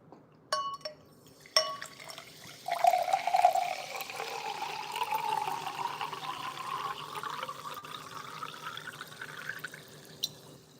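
A Sam's Club sparkling water bottle gives a few sharp clicks and cracks as its cap is opened, then a steady fizzing pour runs for several seconds and slowly tapers off, close and clear with no talk.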